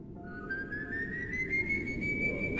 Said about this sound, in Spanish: Pero entonces vino otro silbido.